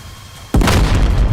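Explosions of HARM missiles being shot down in the DCS flight combat game: after a quieter stretch, a sudden loud boom bursts in and rolls on as a sustained rumbling blast.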